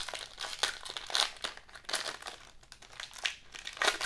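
Panini basketball card pack wrappers being torn and crinkled open, foil crackling and crumpling in repeated close bursts with no talking.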